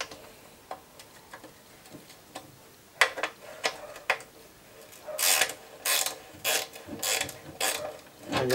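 A ratchet driver clicks while turning a bolt on the air filter housing of a Mitsubishi Colt, at first sparse and faint, then in louder, quick bursts of ratcheting close by.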